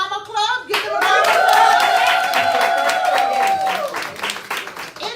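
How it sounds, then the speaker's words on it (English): Steady crowd applause for newly inducted team builders at a partner launch event, loud and continuous for several seconds after a short spoken line, with an amplified voice carrying over the clapping. "Give them a round of applause."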